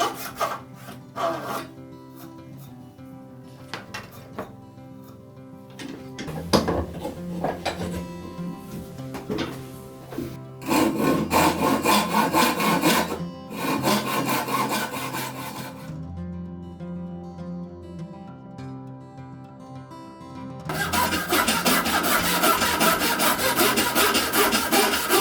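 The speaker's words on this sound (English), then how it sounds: "Getting a little better at sawing straight lines, but still needs some work." Hand saw cutting wooden blanks from rough stock, a run of repeated rasping strokes in bursts with brief pauses, close and fairly loud, no talking.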